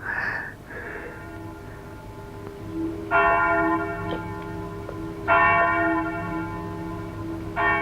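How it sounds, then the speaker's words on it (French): A large bell from the palace of justice in a 1963 film tolls slowly, with two loud ringing strikes several seconds apart over a low sustained hum and a brief tone at the start, no talk. "C'est la cloche du palais de justice."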